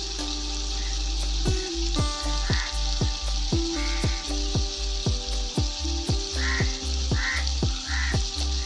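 Masala frying in oil for a Telugu-style crab curry, sizzling steadily throughout while a spoon stirs it, with a quick run of scraping knocks against the pan and no talk.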